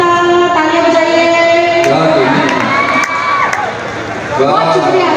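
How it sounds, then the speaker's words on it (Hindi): A loud crowd at a mushaira cheers and shouts with applause, a dense, sustained roar of voices and clapping close by that dips slightly near the end before swelling again. "तालियां बजाइए"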